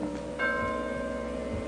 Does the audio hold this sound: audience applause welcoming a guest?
no